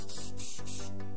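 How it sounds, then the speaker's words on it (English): Knocker Loose Plus penetrating solvent sprayed onto screws of a Commodore 64, a few short bursts of aerosol hiss in quick succession, close and loud, separated by tiny pauses. "Just spray it on liberally on all the screws."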